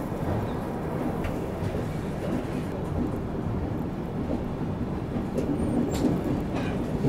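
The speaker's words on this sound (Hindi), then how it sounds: "पुरी ओखा द्वारका सुपरफास्ट एक्सप्रेस अपनी विजयनगरम जंक्शन अब आ चुकी है।" The Puri-Okha Dwarka Superfast Express pulls into Vizianagaram Junction with a steady, heavy, continuous rumble and rolling noise that hardly changes in level throughout.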